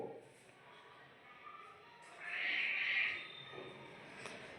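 A pet cat in a quiet home, rolling about and wanting to be picked up, gives a single drawn-out meow in the middle of otherwise faint, still room sound.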